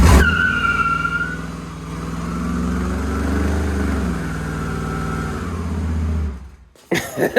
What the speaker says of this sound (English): I guess my brakes work, and so does the one-wheel peel